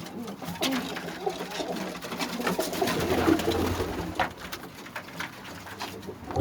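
Pigeons coo softly close by over a busy background of rustling, fluttering and shuffling, with faint voices mixed in.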